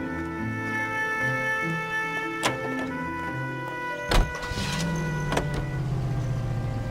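Car driving in the L.A. Noire video game, with a steady engine hum running throughout, a few sharp knocks and clunks, and a sustained musical tone layered over the driving noise. No one speaks.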